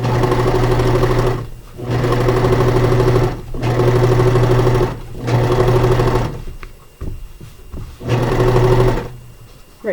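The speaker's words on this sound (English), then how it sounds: "Again, we're sewing the end of the elastic down here" A serger hums in loud, steady bursts while stitching down elastic casing on a cloth diaper, four long runs broken by short pauses, then shorter stop-start stitching near the end.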